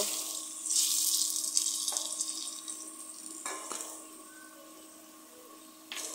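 Potatoes frying in a pan give a soft continuous hiss with a few scraping, stirring clicks, fairly quiet throughout and easing off toward the end.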